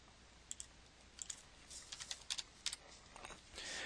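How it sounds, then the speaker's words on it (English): Password being typed on a computer keyboard, a run of quiet, irregular key clicks in small bursts, fairly close, with no voices. "You want to type that same password again"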